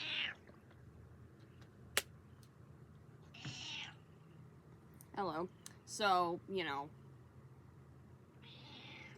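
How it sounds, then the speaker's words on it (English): A house cat meows several times indoors, the calls short and rising, spread across a few seconds with quiet gaps between them. A person speaks briefly near the start. "that was my cat"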